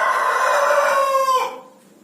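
A chicken recovering from a respiratory snoring illness after three days of Doxyvet treatment lets out one loud, close rooster crow that rises, holds and drops off, leaving quiet behind.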